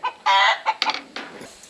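Chickens cluck and squawk nearby in short, agitated bursts as a snake approaches them, a few loud calls followed by quieter scattered clucks.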